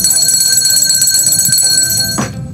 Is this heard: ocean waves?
no